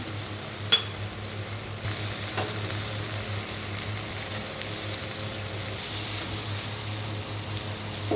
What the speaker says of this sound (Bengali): টমেটোটা দিয়ে ভালো করে আমার মশলাটা কষে নিতে হবে